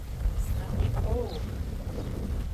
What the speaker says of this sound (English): the wind is really getting in